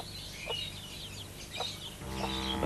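A hen clucks faintly, giving a few short, spaced clucks against a low, steady background hum.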